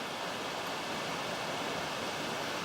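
Empress Falls in the Wentworth Falls area rushing below a bushwalking trail, a steady, distant hiss of falling water heard faintly and continuously with no talking.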